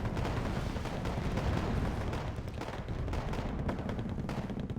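Anti-aircraft guns fire in the PC strategy game Wargame: AirLand Battle, a dense, continuous barrage of booming and rattling shots that runs loud and unbroken through the clip, with no voices.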